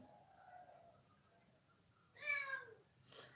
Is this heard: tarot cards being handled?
no